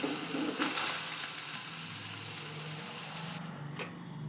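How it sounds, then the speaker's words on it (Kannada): Chili powder and salt frying in a pan for a palak paneer gravy give off a steady, close hiss of sizzling oil that softens and thins near the end. "ಸೊ ಎರಡು ಮಿಕ್ಸ್ ಮಾಡಿ ಚೆನ್ನಾಗಿ ಫ್ರೈ ಮಾಡ್ಕೊತೀನಿ."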